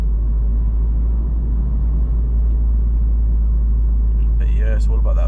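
A Honda Civic Type R FD2 cruises in sixth gear on a Japanese expressway, heard from inside the cabin as a steady, loud low rumble of engine and road noise, with a voice talking briefly near the end.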